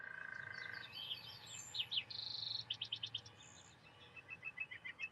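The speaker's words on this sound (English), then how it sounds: "We have the frequency, the resonance of birds in the background." Birds chirping in the background during a guided breathing meditation, a mix of repeated high tweets and short rhythmic calls, moderately distant over a low steady hum.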